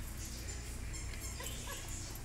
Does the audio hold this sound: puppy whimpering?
yes